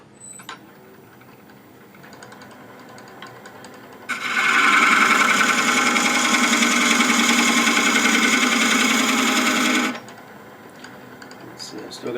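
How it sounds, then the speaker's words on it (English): A hand scraper rasps steadily against threads on a workpiece spinning in a lathe, a loud continuous scraping lasting about six seconds between quieter workshop noise. "I'm going to use a scraper."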